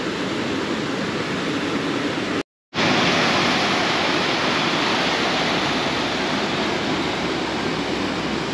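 Water roars continuously from Athirappilly waterfall during the monsoon, fed by release from Sholayar dam, a loud dense rushing wash close by with one brief dropout near the start.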